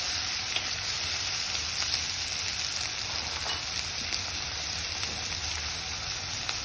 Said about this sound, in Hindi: आधा चम्मच अदरक की पेस्ट और आधा चम्मच हरे मिर्च की पेस्ट डाल रही हूँ।